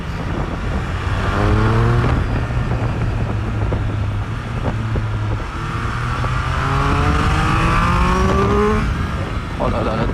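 A Triumph Speed Triple 1200 RS, a 180-horsepower motorcycle, revs hard on a track, its engine climbing through the gears in repeated rising sweeps. A rider talks throughout.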